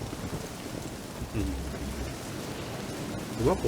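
Rain pouring in The Witcher 3: Wild Hunt, a steady dense hiss with a low rumble partway through and a brief tonal sound near the end.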